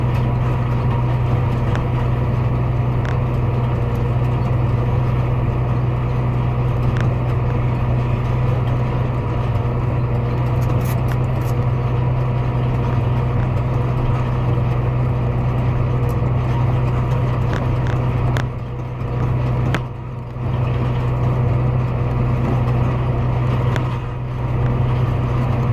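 A vehicle engine idles while stopped on a field, a steady, loud, close low rumble that holds unchanged for the whole stretch, with only a couple of brief dips.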